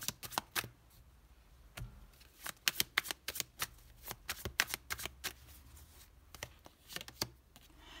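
Tarot cards are handled and laid out one after another, giving quiet, close crisp snaps and slaps in irregular bursts with brief pauses between them.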